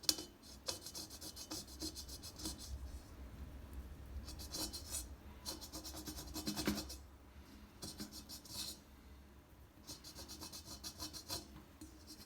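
Fingernail scratching dirt off a surface that a Karcher SC5 steam cleaner and brush failed to clean, a close, dry rasping in repeated strokes with brief pauses between bursts, no talking.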